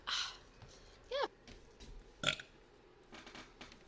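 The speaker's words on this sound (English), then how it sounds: "I will burp on you." Several short burps come one after another, with a loud gurgling belch near the start and another sharp one in the middle, all close up with quiet pauses between them.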